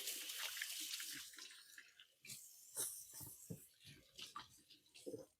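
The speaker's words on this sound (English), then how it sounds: "I'm gonna wash my hands now" Tap water runs steadily in a kitchen sink while hands are washed after handling raw chicken fillets, a close hiss with irregular splashes and rubbing, and no voices.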